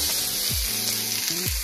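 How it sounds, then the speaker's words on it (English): Chopped garlic hitting hot vegetable oil in a frying pan, a continuous close hiss and crackle with a couple of soft thuds and scrapes from a spatula, no talking. "I preheat my oats already with the vegetable oil. Now I'm going to add some chopped garlic"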